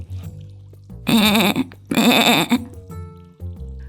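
A lone sheep bleats twice in loud, wavering calls, stranded hanging from a cliff, wet and cold, with quiet low background between the bleats.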